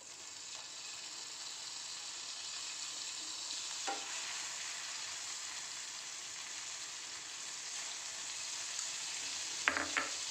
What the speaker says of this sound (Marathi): परत सेम बटर घालून आपल्याला ब्राऊन असे गरम करायचे